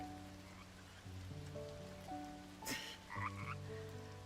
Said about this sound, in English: I can hear the frog.